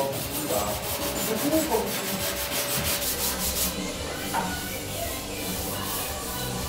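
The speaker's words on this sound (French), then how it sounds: "Allez, c'est parti pour le ponçage." Filler on a Maserati Biturbo body is sanded by hand, a close, rhythmic rubbing rasp that strokes back and forth, quick and regular at first, then settles into a smoother, steadier hiss.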